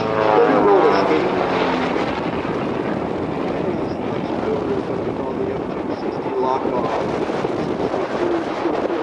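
An aerobatic airplane flying its routine at a 2005 Rhode Island Air National Guard open house and airshow gives a loud, steady engine drone with wind rush that holds without letting up.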